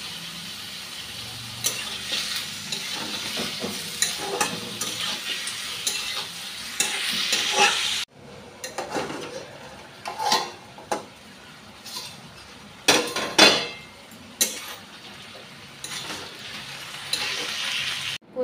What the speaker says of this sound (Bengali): প্রচুর নাড়াচাড়া